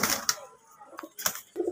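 A male pigeon kept with others for breeding gives short, throaty coos in a few separate bursts, heard close by, with faint clicks and rustles between them.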